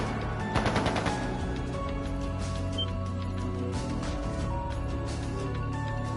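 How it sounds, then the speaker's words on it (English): Rapid bursts of gunfire early on in Trails of Cold Steel II, a quick volley of sharp cracks over a steady game music bed, then the music carries on alone. "That sounded like gunfire."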